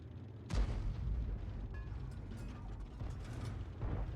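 Tank video game with artillery shells being fired: a sudden heavy boom, then ongoing mechanical clanks and ratcheting reload sounds over a low rumble, with a second thump near the end, no talking.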